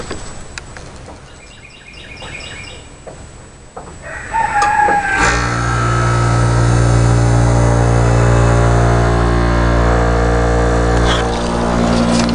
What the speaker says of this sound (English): I'm going to cut the compressor on.